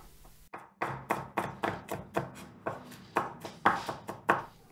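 A knife coarsely chopping garlic on a board in a kitchen, a regular run of crisp, close taps at roughly three per second, with no talk.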